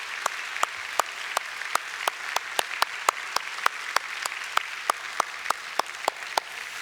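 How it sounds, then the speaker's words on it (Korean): A church congregation at a Sunday service claps in a steady, even rhythm, sharp evenly spaced beats repeating alone for several seconds at moderate loudness. "우리 박수로 격려하겠습니다"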